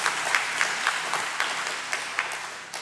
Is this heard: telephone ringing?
no